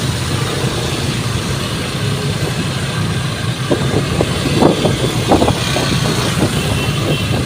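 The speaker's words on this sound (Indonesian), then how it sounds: "ini Makassar macet di mana-mana guys ya" Car and truck engines idle and rumble in a traffic jam on the streets of Makassar, a steady low drone with a few sharper sounds from nearby vehicles toward the end.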